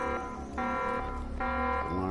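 An alarm sounds in the video game Defiance 2050 at a tower objective: a loud, steady electronic buzzing tone that shifts pitch in stepped blocks, repeating without a break.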